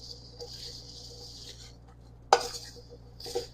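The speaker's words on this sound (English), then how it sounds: "And now we will be just mixing them together." Potatoes tossed with oil in a bowl, soft wet stirring and scraping broken by a sharp clatter of utensil against the bowl midway and another clink at the end, fairly quiet and close.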